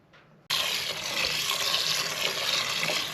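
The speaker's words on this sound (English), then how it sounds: "I'm gonna throw the water in now." Water poured into a pot holding elderberries, ginger, rose hips and cinnamon sticks for homemade cough syrup, starting suddenly after a brief quiet moment and continuing as a steady, close, splashing stream.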